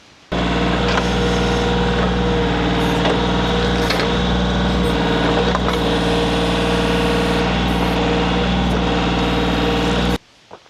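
A tractor engine runs steadily while moving dirt, a loud continuous low rumble with mechanical clanks on top, close by, ending abruptly.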